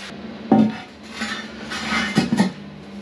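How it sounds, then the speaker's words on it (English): A metal shower pan is lifted and shifted aside, giving a few sharp clanks and knocks at close range with quieter scraping between them. "let's lift the pan out of the way"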